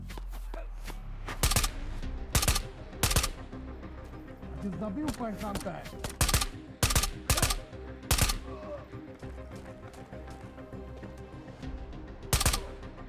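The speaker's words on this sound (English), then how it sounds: "there's the first ring of shots." Bursts of gunfire from a hardcore Tabor extraction shooter match ring out, loud sharp shots in scattered clusters of two and three, with a player talking intermittently between them.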